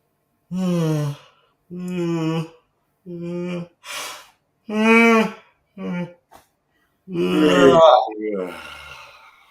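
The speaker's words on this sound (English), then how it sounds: "It might make your eyes water, especially for me, the yawning." A person makes a series of drawn-out, voiced yawning groans separated by silent pauses, ending with a longer, breathy yawn.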